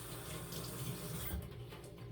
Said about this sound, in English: Let me rinse my knife.